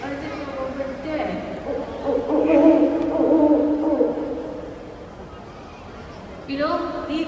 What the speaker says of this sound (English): That was Midnight, our Malay fish owl, and she's right over there.